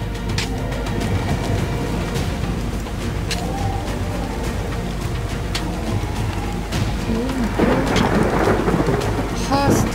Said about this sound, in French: c'est trop fort, on entend l'orage